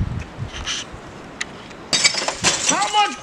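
Glass from a TV breaks under an axe in sharp, bright cracks and tinkling shards, a few quieter clinks first and then a louder burst of smashing near the end.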